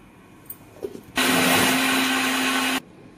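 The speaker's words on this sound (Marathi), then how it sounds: "ह्यात आपण थोडंसं पाणी घालून ही बारीक करून घेऊया। ह्याच भांड्यामध्ये आपण ह्याला फिरवून घेऊया।" Mixer grinder whirring as it grinds a paste with a little water for hotel-style shev bhaji, a loud steady motor drone that starts abruptly after a few light clinks and cuts off sharply.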